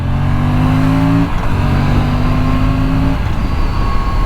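An Aprilia RS 457 motorcycle accelerating on a road limited to 70, its engine note a loud, steady harmonic drone that drops and shifts partway through, then turns rougher and more broadband, with no talk.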